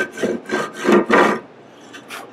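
Cheap framing hammer's edge scraped along rough pallet wood to remove fuzz, giving four close rasping strokes in quick rhythm followed by two fainter, shorter scrapes; no talking.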